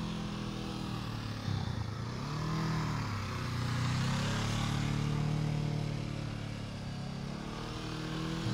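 A motorcycle engine held at high revs during slow-speed riding practice gives a continuous buzzing drone with wavering pitch, fairly faint and distant, with no talk over it.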